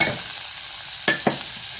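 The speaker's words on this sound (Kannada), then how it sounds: "ಈಗ ಇದಕ್ಕೆ ಕ್ಯಾರೆಟ್ ಹಾಕ್ತಾ ಇದ್ದೀನಿ." Carrots frying in a pan with garlic for a mixed vegetable soup, giving a steady bright sizzle with two quick stirring scrapes close by.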